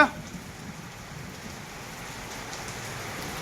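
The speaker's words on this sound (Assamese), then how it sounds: "ধুনীয়া বৰষুণ দিছে" Rain falls steadily on surfaces around a rural home with flooded farm fields and yard, a soft, even patter that continues throughout after a brief bump at the start, with no talking.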